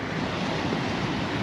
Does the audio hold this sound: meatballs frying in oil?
no